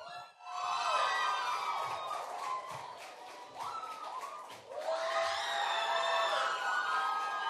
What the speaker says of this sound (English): I have never heard screaming like that here.